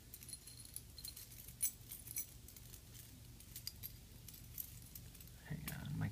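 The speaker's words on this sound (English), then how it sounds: "my keys got all tangled" A bunch of keys jangles and clinks close up in quiet surroundings, with scattered metallic chinks and rattles through the clip and a louder rustle near the end.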